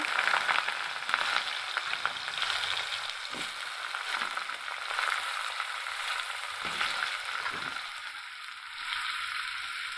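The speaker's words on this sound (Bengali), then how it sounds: "চুলার মধ্যে আমি পরিমাণ মতো তেল দিয়ে দিয়েছি। এখন দিয়ে দিচ্ছি পেঁয়াজ আর কেটে রাখা আলু কুচি।" Onion and chopped potato sizzle and crackle steadily in hot oil in a pan, a close, continuous frying hiss with occasional stirring scrapes and no talk.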